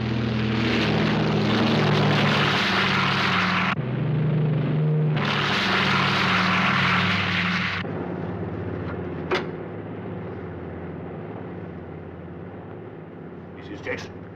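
Propeller airplane on a New Guinea flight, a steady droning engine hum with people talking over it, the roar dropping to a quieter cabin drone partway through.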